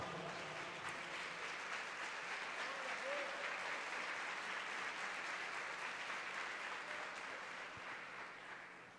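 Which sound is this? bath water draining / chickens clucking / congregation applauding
congregation applauding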